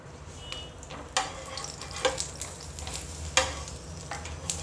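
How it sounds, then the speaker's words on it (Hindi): A Mughlai paratha cooks in ghee on a pan, giving a soft continuous sizzle with several crisp scraping and tapping accents from a utensil. "दूसरी तरफ से भी इसे पलट लेंगे और घी लगा देंगे।"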